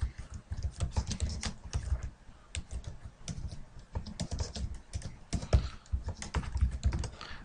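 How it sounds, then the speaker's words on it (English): Rapid, steady keystrokes on a computer keyboard, close and clear, with bursts of clattering taps and brief pauses between them, no voice over it. "I'll type in a name."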